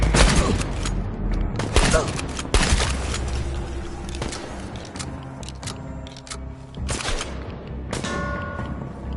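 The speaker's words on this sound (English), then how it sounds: "Gunfire, check it out!" Rapid bursts of gunfire crack and thud over and over, loud and close, with voices and other game sounds mixed in.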